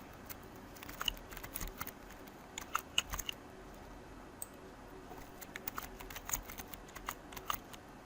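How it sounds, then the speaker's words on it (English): Keys on a computer keyboard are tapped close by in quiet, irregular clicks, short bursts with brief pauses as a password is typed. "Now after typing this, you need to type your password or set your password."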